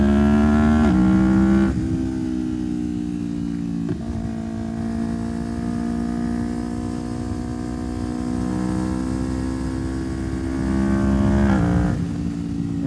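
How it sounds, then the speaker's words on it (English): A 2025 Yamaha YZF-R3 sport motorcycle accelerates up through the gears on its quick shifter, its engine note climbing and dropping sharply at each of several quick upshifts, close and steady with no talk. "Let's hear that quick shifter."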